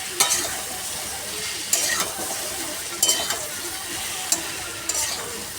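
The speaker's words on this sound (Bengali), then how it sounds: "একটু ভালো করে কষিয়ে নিই, তারপর শাকটা দেবো" Chilli powder and cumin powder fry in a pan with a steady sizzle, while a spoon scrapes and stirs at irregular intervals and now and then clinks against the metal.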